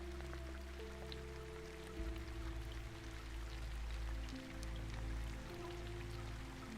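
Steady rain falling on stone paving in an evening garden, a dense even patter with a low rumbling hum underneath, continuous and fairly close.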